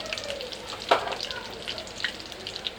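Cumin seeds and curry leaves sizzle in hot oil in a kadai, a soft steady hiss with occasional small pops and a stir, close and moderate in loudness.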